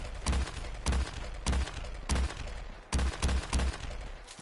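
A modded weapon in Fallout 4 fires rapidly, with loud, booming shots coming in a steady rhythm of about two per second, each ringing into the next.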